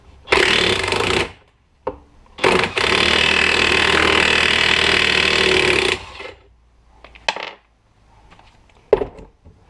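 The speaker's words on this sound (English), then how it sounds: "I'll take the 19mm and hopefully try and spin that nut off of there" An impact or power tool with a 19mm socket spins a nut off the shaft of a Dodge Ram truck shock held in a vise, giving two loud buzzing rattling bursts, the second about three seconds long, then scattered metallic clinks.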